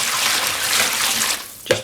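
Plain cold water pours steadily and close into a large container for dyeing yarn, a dense hissing splash that ends with a single hollow knock.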